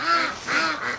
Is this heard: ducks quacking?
yes